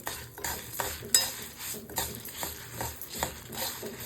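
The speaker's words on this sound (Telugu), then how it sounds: "ఇప్పుడు ఇవన్నీ మాడిపోకుండా ఎర్రగా వేయించుకోవాలి" Urad dal, fenugreek seeds, mustard seeds and dried red chillies fry in a pan for a mango-ginger pickle, with a steady soft sizzle under repeated scraping stirs and light clinks of a spoon against the pan.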